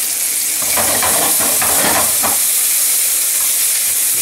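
Apple caramelizing in butter with sugar in a hot pan, a loud, steady sizzle and hiss with brief stirring scrapes in the middle, no voices over it.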